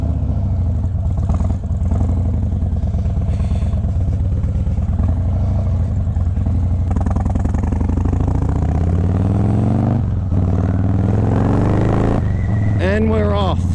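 A 2025 Harley-Davidson Fat Boy motorcycle pulls away with a steady low engine rumble that climbs in pitch as it accelerates near the end. The sound is close and continuous, with no voices.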